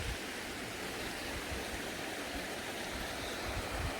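Runoff water from the Glencorse Reservoir at Flotterstone pouring down a channel, a steady broadband rushing close by, unbroken and without voices.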